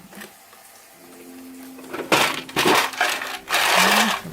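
Ice is scooped and dropped into a bowl in a kitchen. A quiet hum gives way to a run of loud, close clattering and crunching bursts as the cubes knock together and against the bowl.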